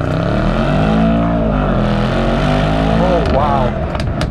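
A Mercedes-AMG E63S wagon launches hard from a standstill, its V8 roaring loud and close as the revs climb and drop through gear changes, with wind and road noise building underneath.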